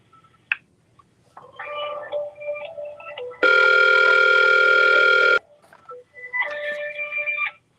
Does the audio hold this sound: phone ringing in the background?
yes